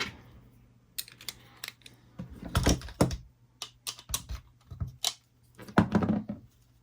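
Hand work on the brush bar of a Dyson Big Ball Cinetic upright vacuum, with a part being tightened: scattered close clicks, plastic knocks and scrapes in short irregular bursts, with brief pauses between them and a faint steady hum underneath.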